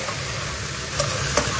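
Cauliflower florets frying in a pan give a steady, close sizzle throughout, with two brief clicks of stirring partway through.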